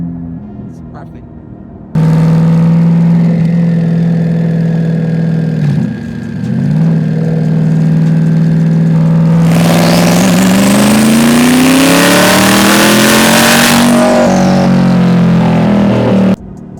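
A C8 Corvette with rolling antilag holds a steady high rev, then climbs to a loud, rising wide-open roar with popping and crackle. It runs near and continuous through the whole stretch.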